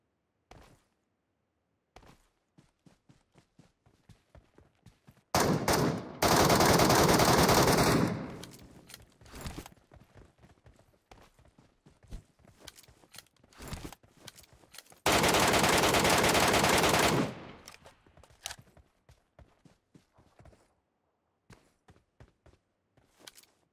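Gunfire in PUBG Metro Royale, a mobile battle royale game: two long, loud automatic bursts are separated by sparse single shots and rapid footstep-like ticks, all close and with no talking.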